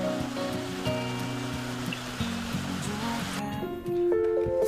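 Jiktang Waterfall on the Hantan River in Cheorwon rushes as a constant broad watery roar, running steadily underneath louder melodic background music throughout.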